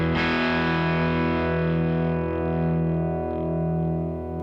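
A Les Paul electric guitar on its bridge pickup, with the neck pickup rolled partly down, rings out one sustained distorted chord that slowly decays, heard alone.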